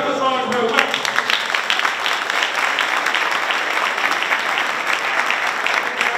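Steady, dense applause from an audience at a civic event honoring a city mayor in Orangeburg, running loud and continuous for the whole stretch without a break.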